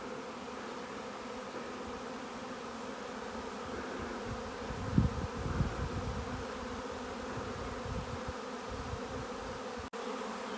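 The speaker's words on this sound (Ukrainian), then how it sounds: "Рій прилетів, залітає, селиться в ройловку." Honeybee swarm flying into a swarm trap box at an apiary: a dense, continuous buzzing hum of many bees, steady and fairly close throughout, with brief louder swells as bees pass nearby.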